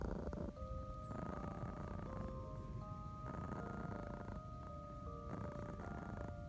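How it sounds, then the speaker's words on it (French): A cat purrs close up in a steady, continuous rumble that pulses with its breathing, loud and alone with no talking. "Les ronronnements du chat, c'est relaxant et tout."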